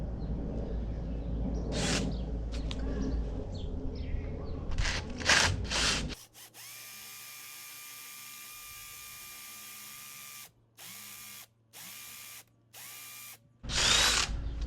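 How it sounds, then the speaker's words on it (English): A cordless power drill whirs steadily in several bursts while drilling into a concrete block, cutting in and out with short pauses, after a stretch of clattering and handling noises; a loud rattle ends it. "I'm just going to drill holes into these things"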